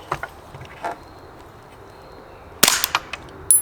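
A Ruger 10/22 rifle with a roughly 16-inch barrel fires .22 rimfire rounds outdoors: a sharp crack at about two and a half seconds, followed by a smaller snap at the very end, with quiet ambience and faint clicks between shots.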